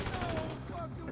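Dense gunfire in GTA V Online, a steady rattling barrage of shots filling the whole moment with no pauses, loud and continuous.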